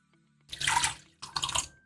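Warm water poured into a mixing bowl while making puff puff, two short splashing pours about a second apart, close and fairly quiet, with no talk.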